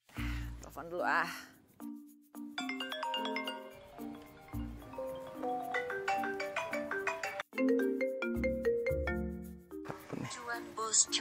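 A phone plays a cheerful ringtone melody for an incoming call, tinkling bell-like notes in a bouncy repeating tune that runs for about eleven seconds, fairly loud and close.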